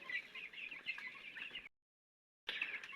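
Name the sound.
chickens clucking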